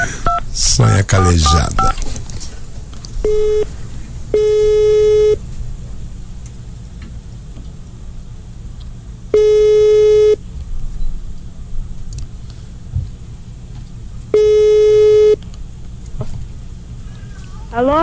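Telephone dialing on a line: several steady, loud dial-line tone bursts of about a second each, separated by pauses, after a brief spoken name at the start.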